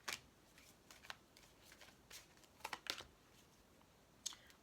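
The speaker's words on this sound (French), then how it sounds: "On mélange les cartes." Tarot cards are shuffled during a reading, making a soft, close riffling and flicking in irregular light bursts over a quiet background.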